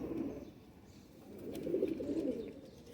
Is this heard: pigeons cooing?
yes